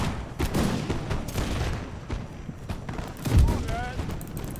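Musket volley gunfire in a video game battle from the First Anglo-Afghan War, with repeated crackling shots and a heavier boom near the end, mixed with battle noise and a voice shouting commands.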